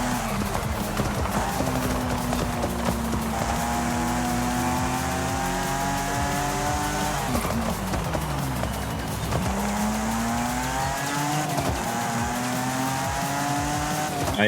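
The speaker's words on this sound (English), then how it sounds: "The Exige, I mean, I'm definitely enjoying driving it here." Lotus Exige engine in the Forza racing game, a continuous loud drone with rising and falling rev sweeps as it shifts through gears, a sharp drop near the middle and again later, with some tire noise.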